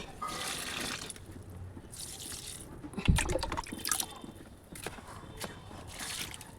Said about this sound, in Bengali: ফুল গাছে জল দিয়ে নেই।